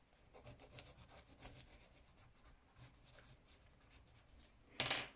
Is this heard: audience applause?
no